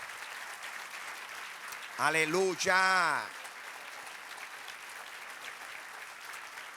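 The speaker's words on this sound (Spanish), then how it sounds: "Dale fuerte aplauso." Steady applause from a church congregation fills the room, while a singer's voice rises briefly in the middle and then the clapping carries on alone.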